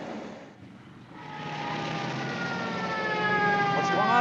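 Police car sirens in a 1950 drama wail with a rising, climbing tone that grows steadily louder as the cars approach, heard alone with no voices.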